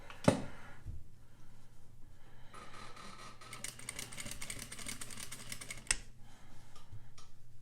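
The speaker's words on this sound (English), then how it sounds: "I'm actually going to start with a back stitch." Sewing machine back stitching along a zipper, a faint rapid mechanical clatter running in bursts with brief pauses and a couple of sharp clicks, quiet and close, no talking.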